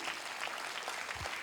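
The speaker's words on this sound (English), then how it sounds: "Give a good round of applause to yourself." Brief burst of audience applause for the youngsters behind the Sky Striker drone at a military talk, a steady dense clatter of clapping throughout with a low thump near the end.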